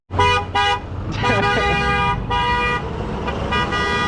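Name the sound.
car horn honking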